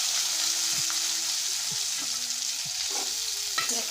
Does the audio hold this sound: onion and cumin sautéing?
yes